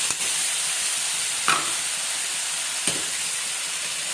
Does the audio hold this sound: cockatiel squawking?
no